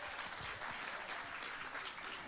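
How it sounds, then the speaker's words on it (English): Faint, steady applause from a comedy show audience greeting the host, a distant even wash of many hands clapping throughout. "what about a round of applause for Ismo, our host?"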